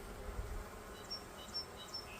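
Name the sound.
worker honey bees buzzing in an open hive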